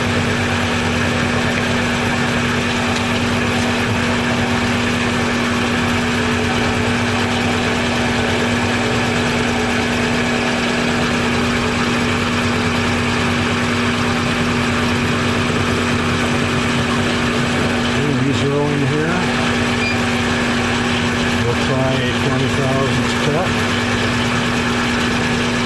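Steady machine hum with a strong tonal whine runs throughout while an engine cylinder head is slowly machined, broken by a few brief scraping bursts near the end.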